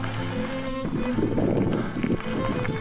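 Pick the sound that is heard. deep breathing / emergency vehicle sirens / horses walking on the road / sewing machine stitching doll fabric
horses walking on the road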